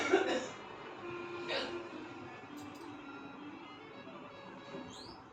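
Two short, rough coughs, the first at the very start and the second about a second and a half later, sound at moderate distance over a hall's murmur during a Shiva Mahapuran religious discourse gathering in Sirsa, Haryana.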